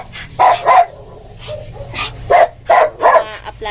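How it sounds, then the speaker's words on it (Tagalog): Several pet dogs bark in a loud, close burst of sharp, overlapping barks and yips, arriving in uneven clusters over a few seconds with short gaps between them. "ang ingay ng aking mga alaga"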